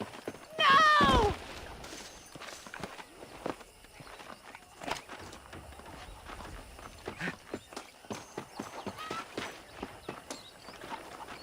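Horse hoofbeats in the Western game Red Dead Redemption, a loud burst of a galloping or rearing horse at the start, then a run of soft, irregular clip-clop footsteps at a distance.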